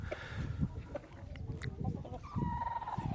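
Chickens and a rooster out on snow cluck and call in short, close bursts, with one drawn-out crow-like call near the end, over a soft outdoor background.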